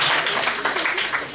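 A dense wash of hand clapping fills a hall at a Cotonou awards night for accessory makers, with many hands sounding together in a brief, even burst.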